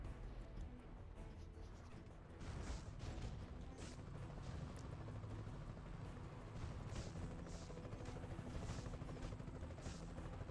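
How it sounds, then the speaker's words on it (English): A very loud helicopter flies low over a house, a dense, continuous rotor roar with a rhythmic thudding pulse, heard indoors and filling the background throughout. "I hear a very loud helicopter."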